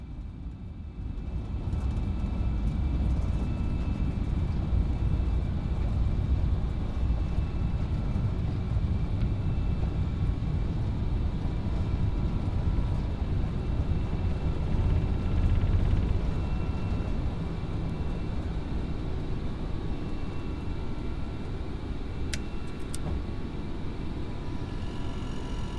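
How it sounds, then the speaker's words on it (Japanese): An FSLabs A321 airliner taking off in Microsoft Flight Simulator, a steady loud low engine roar and rumble that holds for the whole stretch with little change. "FS ラブスの離陸のシーンをご覧ください"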